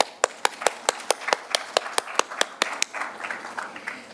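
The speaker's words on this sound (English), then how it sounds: "We'll clap. We'll all clap to that." A lone person in a lecture audience clapping, about fifteen sharp, evenly spaced claps in a steady rhythm that loosen into softer, scattered claps near the end, heard alone in a quiet hall.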